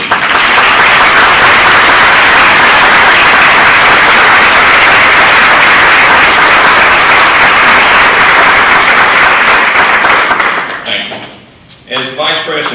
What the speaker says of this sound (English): I'd like them to stand so we can give them a round of applause for all their hard work and dedication.